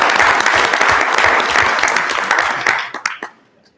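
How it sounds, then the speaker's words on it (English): An audience at a school board meeting applauds its AP scholars, close, dense clapping that holds steady and then thins into a few last claps. "So give a round of applause."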